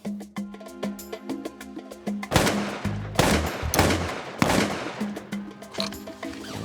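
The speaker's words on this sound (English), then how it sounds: "That was some fine shooting by my neighbors." Gunshots ring out close by as neighbors shoot at ducks on a freezing winter day, a cluster of sharp, loud reports with echoing tails spread across several seconds, some shots in quick succession.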